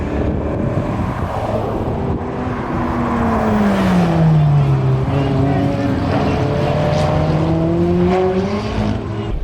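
McLaren 570S driven at full speed on a track, a loud engine note rising and falling as it revs through the gears, with wind rush and an instructor talking over it.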